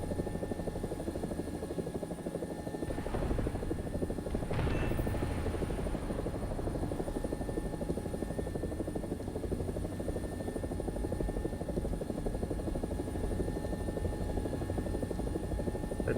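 An AB 205 helicopter (Italian UH-1H) in a video game drones steadily and loudly throughout, its rotor and turbine noise constant with only slight shifts in tone.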